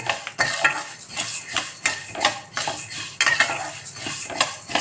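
Coriander seeds and fenugreek dry roasting in a pan without oil for puliyodarai spice powder, with repeated sharp scrapes and clinks of a metal spoon stirring against the pan in an uneven rhythm, close and fairly loud.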